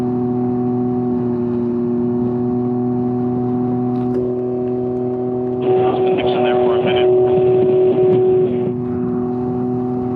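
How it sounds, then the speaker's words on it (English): A Can-Am Ryker motorcycle engine drones steadily under a voice, then its exhaust rises into a louder, rougher rev for a few seconds before settling back. "with your visor open, I can hear your exhaust really loud"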